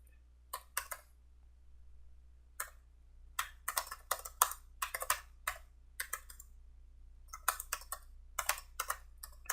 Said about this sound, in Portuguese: Vamos escrever funcionamento, vai.